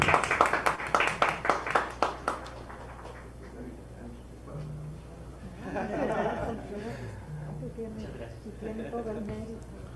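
Applause from a small audience at a university ceremony on transparency and privacy at the UNAM law faculty, a short burst of clapping that fades within a couple of seconds into murmured chatter and light laughter.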